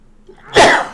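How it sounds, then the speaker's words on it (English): A single loud sneeze bursts out close by after a quiet moment, then trails off. "So I'm gonna sneeze here."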